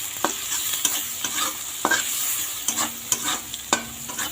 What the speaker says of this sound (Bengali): এটা ভালো করে নাড়িয়ে নেব